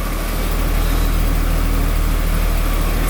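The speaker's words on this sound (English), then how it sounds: "Let's have a listen at the exhaust." A car's exhaust at idle, heard close to the tailpipe as a loud, even low-frequency rumble that holds steady throughout with no talking.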